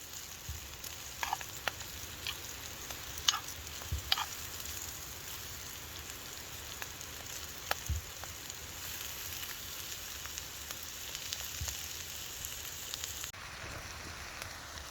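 Food frying and sizzling steadily in a pan over a camp stove, deep in a Scottish forest on a solo wild camp, a constant close hiss with a few faint pops and no talk.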